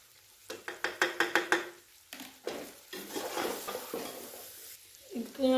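A spoon stirs boiled chicken, salt and carrots in a pan, with a quick run of sharp metal scrapes and clanks, then a looser sizzling shuffle of food being turned, close up with no talk.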